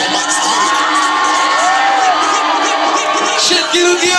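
A large crowd at a rap concert in Ostrava cheers, whoops and shouts loudly and continuously, with no break in the noise.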